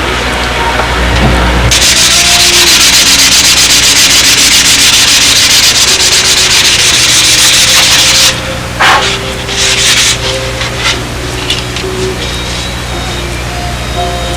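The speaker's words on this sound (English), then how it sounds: "This is just rough carve." Rough carving of wood on a model plane: a loud, continuous rasping scrape runs for several seconds, then breaks into shorter, uneven strokes.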